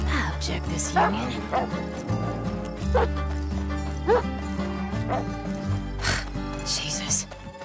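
A dog barks repeatedly in the western stealth video game Desperados 3, with sharp, insistent yaps over game music and ambient background, with a character voice talking in between.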